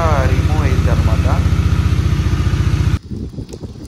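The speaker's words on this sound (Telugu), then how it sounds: "వాటర్ ఫిల్ చేశాక అయితే బండి అయితే ఆన్ చేయాలి." A Bajaj Dominar 400 motorcycle engine running at home during servicing, a loud, close, throbbing idle with rapid even pulses that cuts off abruptly near the end, leaving quieter handling noises.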